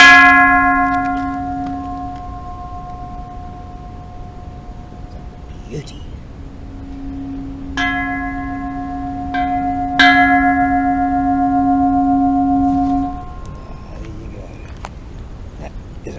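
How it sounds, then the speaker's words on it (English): A deep Buddhist temple bell is struck several times with a striker, each stroke ringing out with a long humming sustain that slowly fades; a voice speaks briefly between strikes. "Real deal secondary bell."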